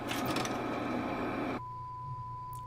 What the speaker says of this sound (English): Pop in the tape.